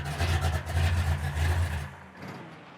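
A 1969 Chevrolet Camaro V8 with headers and an Edelbrock intake rumbles loudly at close range in a deep, steady idle, then its sound drops away sharply near the end as if switched off.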